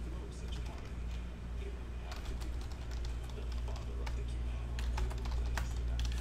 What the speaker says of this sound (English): let's type in those hits on this blank list right here